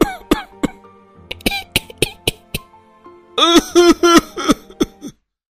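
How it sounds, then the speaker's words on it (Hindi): Several people cough in quick succession, a run of sharp, close coughs and throat-clearing bursts that build into a louder cluster of overlapping hacking before stopping abruptly. "ये क्या, सभी को साथ में खांसी आने लगी?"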